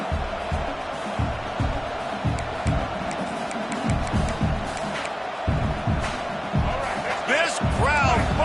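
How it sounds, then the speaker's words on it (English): Loud, dense stadium crowd roaring in a football video game during a fourth-down stand, a continuous wall of noise with rhythmic thumping beneath it and commentary layered over the top. "This crowd busting the decibel meter and trying to will a 4th down stop"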